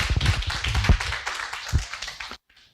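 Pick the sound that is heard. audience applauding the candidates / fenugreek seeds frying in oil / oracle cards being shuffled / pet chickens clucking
audience applauding the candidates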